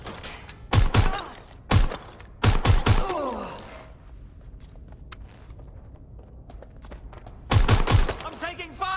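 Gunfire in the Watch Dogs Legion video game: several sharp, loud bursts of shots come in clusters with quieter gaps between them, with a gasp and movement sounds mixed in.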